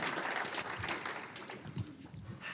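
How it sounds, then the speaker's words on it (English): Audience applause for the founder of a human-trafficking organisation at a Chamber of Commerce quarterly membership luncheon, a steady dense patter of many hands clapping throughout, fairly loud and continuous with no talk. "Give her a big round of applause."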